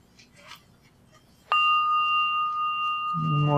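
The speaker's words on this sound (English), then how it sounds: "I'll simply ring the bell" A single meditation bell is struck once during a guided nature meditation, giving a clear bright ding that rings on steadily with a long sustained tone, joined near the end by a faint low hum.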